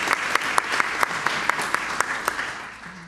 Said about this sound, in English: So an extra round of applause.